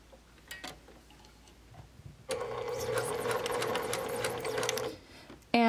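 A sewing machine stitches a quarter-inch seam through the fabric of a llama plush, a steady mechanical whir running for about three seconds after a quiet pause, then stopping abruptly.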